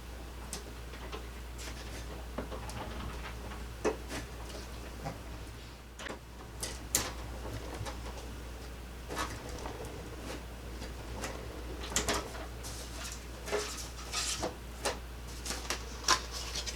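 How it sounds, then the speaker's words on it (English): A manual die-cutting machine feeds card stock for a shutter card through its rollers with a rapid series of close clicks and ticks, irregular taps and rubbing at a moderate level, and no talking. "So I'm going to run this through my die machine and cut that large one out."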